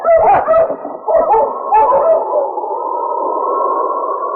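Several sled dogs bark and yip loudly together, then the barking gives way to a long, sustained howl that carries on steadily to the end.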